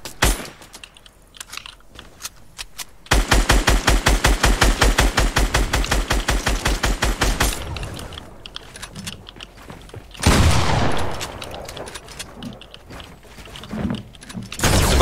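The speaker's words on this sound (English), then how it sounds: "Please keep shooting them." Video game gunfire as enemies are shot: scattered bangs, then a long, loud automatic burst of evenly spaced shots, followed by sporadic clatter and another heavy volley.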